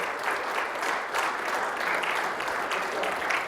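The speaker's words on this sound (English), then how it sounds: "Can we get a round of applause?" An audience claps steadily throughout a short stretch of continuous applause, even and fairly close, with no talking over it.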